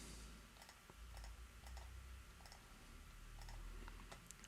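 Typing on a computer keyboard during a Soundcraft mixing-console session, heard as quiet, irregular clicking keystrokes over a low steady background hum.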